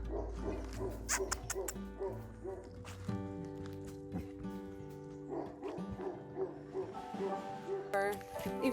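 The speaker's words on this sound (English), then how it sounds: "Woof woof. He's like batting his tail." A small dog yips and barks in short bursts amid whimpering, fairly close, over a busy background with music-like tones and some talking.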